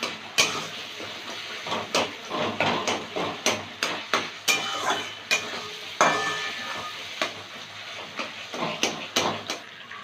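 Katla fish sautés in a pan with spices, a soft sizzle under repeated sharp scrapes and clanks of a spatula against the metal, irregular and close.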